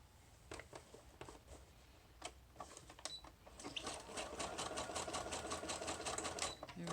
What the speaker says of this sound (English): we're gonna sew right here at the bottom, and we're gonna sew right here at the top.